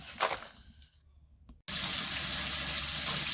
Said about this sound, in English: I'm running the water, putting my finger in it, trying to get it about room temperature.